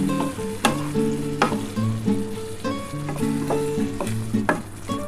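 Ridge gourd and potato being stir-fried in a poppy seed paste, with steady sizzling and repeated spatula scrapes and knocks against the pan, close and fairly loud with no talking.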